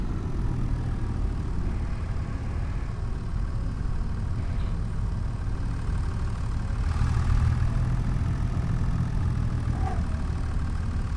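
A tractor engine idles steadily throughout, a low continuous rumble at moderate level with slight swells in the middle, no speech over it.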